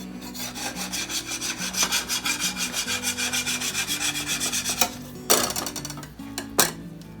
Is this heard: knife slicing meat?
yes